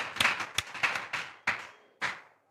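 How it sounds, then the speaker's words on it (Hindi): A small audience at a Sunday education show claps for two contestants: a handful of sharp, separate claps, sparse and close, thinning out to a last few isolated ones. "हम चाहेंगे कि आप दोनों के लिए एक बार फिर से ताली बजा दिया जाए।"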